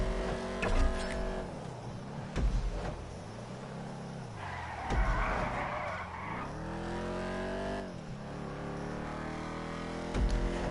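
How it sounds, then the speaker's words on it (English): A muscle car engine in GTA Online revs hard in repeated surges, rising and falling in pitch, with tire squeals and skidding between bursts; no talking. "this guy over here is flooring the gas because he don't want to get hit."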